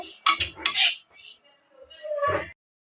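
Roasted sesame seeds being stirred in a wok with a utensil, giving short bursts of close scraping and clinking against the metal, with a brief quieter pause before a final burst.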